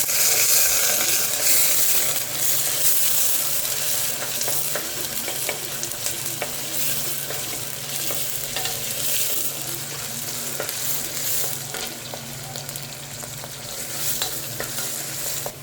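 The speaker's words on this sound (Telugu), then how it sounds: "ఇప్పుడైతే ఆనియన్స్ వేసేసాను ఫ్రెండ్స్. ఇది కొంచెం ఫ్రై అయ్యాక వెయిట్ చేద్దాం" Chopped onions fry in a hot pan for chicken curry, giving a steady, dense sizzle along with the occasional scrape and clink of a stirring spoon. The sound stays close and continuous throughout.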